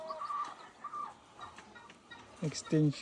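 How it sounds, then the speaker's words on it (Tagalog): Turkeys gobble in short warbling bursts on a farm, faint at first and then louder nearby, over a background of other farm birds. "Tsaka may pabo tayo dito. Bagong alaga natin sa farm."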